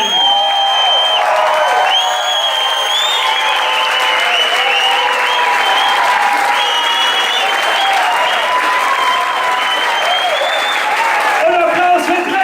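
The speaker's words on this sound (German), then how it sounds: "Ich habe gerade vergessen, Applaus für die Band!" Steady, loud applause from a crowd at a band competition's final award ceremony, with sustained clapping, scattered whoops and cheers, and speech mixed in throughout.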